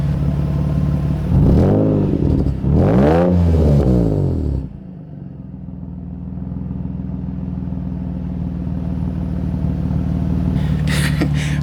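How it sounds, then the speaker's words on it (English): A Nissan 350Z engine with a loud exhaust and a misfire revs up twice in quick, loud bursts, then drops back to a steady, low rumbling idle. "so I'll go ahead and do some small revs"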